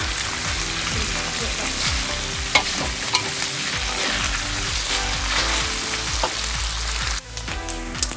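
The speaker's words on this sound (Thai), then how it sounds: "น้ำมันจากหมูกระเด็นออกนอกกระทะนะคะ" Pork belly sizzles loudly in its own rendered fat, with a constant crackle and frequent pops of oil spattering out of the pan, plus occasional scraping of a utensil in the pan.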